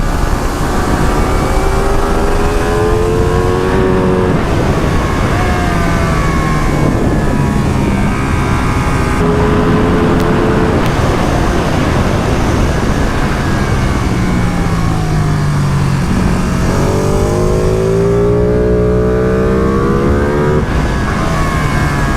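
A 2020 Ducati Panigale V2 engine screams on a race track, loud and close, rising through the revs, with repeated upshifts and short drops between gears over a sustained run.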